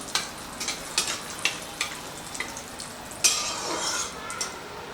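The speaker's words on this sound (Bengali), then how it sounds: "তাহলে মশলাটা একটু ভেজে নিই।" Bay leaves, cracked cardamom pods and cinnamon fry in oil in a pan, giving a soft steady sizzle broken by light clinks and scrapes of a spoon against the pan, with a louder burst of sizzling near the end.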